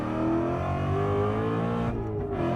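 A Ford Mustang RTR Spec 5 race car, down-tuned to 650 wheel horsepower, roars loudly and steadily on the Nürburgring track, its engine note climbing in pitch and then dipping briefly, with no voices.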